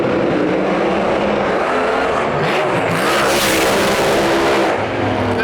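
A Chevelle drag car launches down the strip at a drag race, wheels up and pedaling, engine roaring loud and continuous with a harsh, broadband blast filling the whole stretch.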